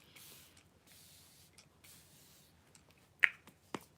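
A Watermelon Glow facial mist bottle is pumped in a few soft hissing sprays, followed by two sharp clicks of the nozzle, all close and quiet with no talking.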